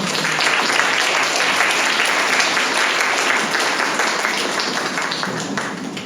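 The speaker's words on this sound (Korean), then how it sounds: "할렐루야 박수로 목사님 맞이하겠습니다" Sustained audience applause at a Korean church spring retreat service, steady and dense from start to finish as a congregation welcomes the pastor, fading slightly toward the end.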